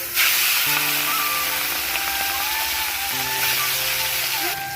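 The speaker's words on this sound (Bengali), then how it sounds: "তেলও গরম হয়ে গেছে, চিংড়ি মাছগুলো দিয়ে দেবো।" Prawns frying in hot oil make a loud, continuous sizzling hiss throughout, with faint tonal hums layered underneath, close up and with no voices.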